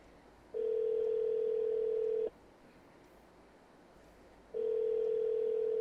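Inside a video game, a telephone call rings out unanswered: two long steady electronic tones, each about two seconds, separated by a pause, clear and moderately loud with no talk.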